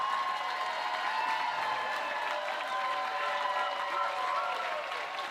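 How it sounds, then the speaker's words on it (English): Wedding guests applaud the father of the bride as he steps up for his speech, a continuous, full wash of clapping from a sizable crowd, with a faint cheer or two mixed in. "Let's give him a round of applause, a little bit of encouragement."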